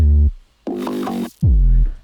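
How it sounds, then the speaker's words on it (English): Distorted bass guitar layer in a remix, a few loud, fuzzy low notes in short bursts with brief gaps between them, alone and up close. "Then I got the bass guitar layered in with that, which kind of sounds like this."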